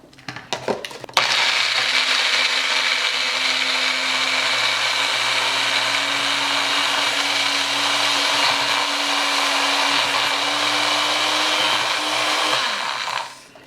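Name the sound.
Magic Bullet blender blending cooked split peas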